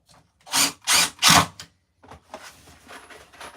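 Three short bursts of a power drill or driver sinking screws into a wooden table top in a home workshop, each whir loud and close and about a third of a second long, followed by quieter scraping and shuffling.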